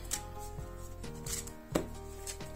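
A deck of board game cards for Goblivion being shuffled, heard as a few short, crisp rustling bursts over steady background music.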